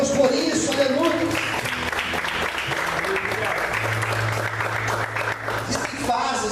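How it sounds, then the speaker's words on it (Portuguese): A church congregation applauds in praise during a sermon, a broad sustained wash of clapping with voices mixed in and a low musical drone underneath. "Você pode aplaudir e adorar a Deus por isso."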